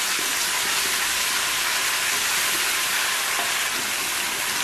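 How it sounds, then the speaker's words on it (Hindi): Garlic and ginger paste frying with golden onions for a baingan chana curry, a steady bright hiss of sizzling oil at moderate level throughout, with no talking. "अब मैं इसमें ये डाल दूंगी लहसुन और अदरक का पेस्ट और दो मिनट के लिए इसको भूनूंगी"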